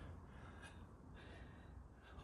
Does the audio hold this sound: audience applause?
no